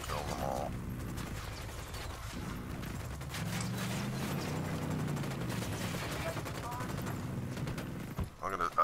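A squad opening fire in Ghost Recon, a fairly faint, continuous rattle of overlapping gunshots and battle noise that holds steady and then breaks off in a few louder clicks near the end.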